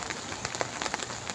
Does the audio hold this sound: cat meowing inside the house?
no